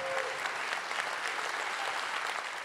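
An audience at an evening gala gives sustained, even applause, a continuous wash of many hands clapping at moderate distance with no voices.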